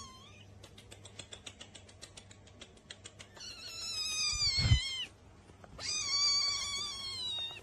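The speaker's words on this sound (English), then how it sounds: "Poor cat." A cat meows and caterwauls loudly close by, first a rapid rhythmic chatter and then two long drawn-out yowls, with a low rumble between them.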